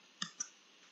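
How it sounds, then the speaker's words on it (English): Two quick, crisp computer mouse clicks sound close up about a fifth of a second apart in an otherwise quiet room. "I'll try to be more accurate in my mouse clicks here"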